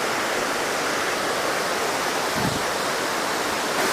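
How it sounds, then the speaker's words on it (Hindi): Rushing water of Lodh Waterfall in Jharkhand, a steady, dense roar of falling water that fills the whole clip without break, loud and continuous with no voices. "झारखंड का ये मतलब सबसे प्रसिद्ध जलप्रपात अगर कहा जाए तो ये लोध वाटरफॉल है"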